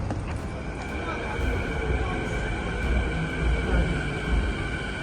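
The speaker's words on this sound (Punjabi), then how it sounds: "ਇੱਕ ਮੰਡਲ ਟ੍ਰੇਨ ਆ ਗਈ ਹੁਣ ਸਾਡੀ ਵੀ ਆਉਣੀ ਹੈ" A train rolls into a station platform with a continuous rumble and faint rhythmic clatter, while people talk nearby.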